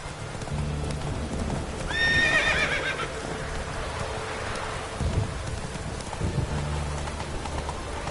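Horse Roach in The Witcher video game gallops with steady clip-clop hoofbeats and a brief whinny, under rain and rolling thunder.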